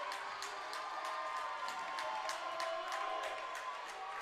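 A basketball crowd in a high school gym near the end of a game gives a continuous roar of cheering, fairly close and loud, with scattered claps and shouts rising above it.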